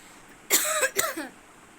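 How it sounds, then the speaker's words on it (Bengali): A woman who is unwell gives a short, sharp cough, then a second quick cough, close and clear against a quiet room. "শরীরটা ভালো নেই এত কাশি হচ্ছে"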